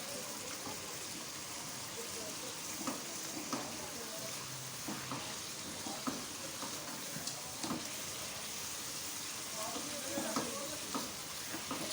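Chicken palak, a spinach curry, sizzles and fries in oil in a pan, a steady broadband hiss with small pops and occasional stirring scrapes, fairly quiet and continuous throughout with no one talking.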